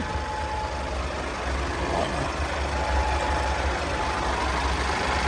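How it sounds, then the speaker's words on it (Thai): Engine of a 2017 Hino Victor 700 series truck, 480 horsepower, running at a steady idle, a continuous low rumble with a faint higher whine, close by and unbroken throughout. "นี่เครื่องยนต์ภายในนะครับผม"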